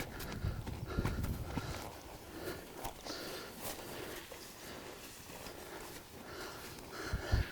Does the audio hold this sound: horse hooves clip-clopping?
yes